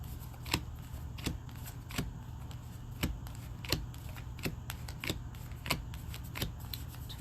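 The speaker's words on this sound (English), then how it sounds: "let me count these cards out" Playing cards counted out one by one onto a table, a steady series of soft, sharp flicks about every half second, fairly close, over a low background hum with no talking.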